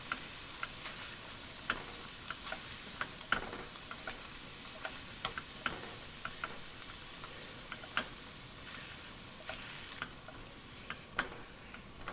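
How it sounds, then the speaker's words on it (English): Cooked beans being mashed with a potato masher: a steady run of soft, squelchy presses and scrapes at close range, repeating every half second or so, with no talking. "And I just mash those beans using a potato masher."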